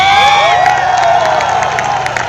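A crowd claps and cheers for a champion called up on stage, loud and close, with whoops and shouts over dense applause that fades a little toward the end.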